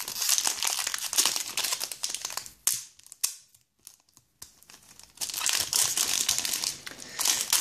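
Plastic wrapping and tape on a Pokémon tripack crinkle and tear in loud, close bursts, then go nearly quiet for a moment with a few sharp rips before the crinkling resumes, all without talk.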